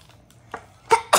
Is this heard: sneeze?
yes